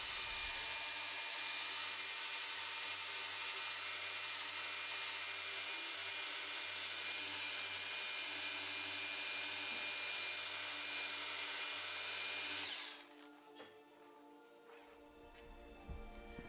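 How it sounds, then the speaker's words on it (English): A rotary polisher buffs and corrects the paint on a BMW E30 convertible, its steady high whine running loud and unbroken before cutting off abruptly, leaving quiet room noise. "we polish as tightly up against them as we can"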